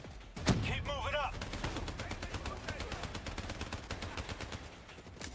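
Gunfire in the video game Call of Duty Black Ops 3: a loud blast opens, then rapid automatic bursts crackle steadily underneath, with a voice talking over the shooting throughout.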